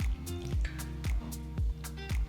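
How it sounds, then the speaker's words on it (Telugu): Thick mint cashew pakodi batter being mixed by hand with mint-coriander chutney and water makes wet, close squelches, four rhythmic squishes at a steady pace about half a second apart. "ఇందులో పట్టి పెట్టుకున్న పుదీనా కొత్తిమీర చట్నీ వేసి కొన్ని నీళ్లు పోసి కలుపుతున్నాను"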